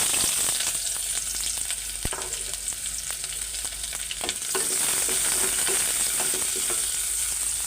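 Onions and bay leaves fry in hot oil, giving a loud, steady sizzle that runs throughout, with occasional stirring clinks against the pan and no talk.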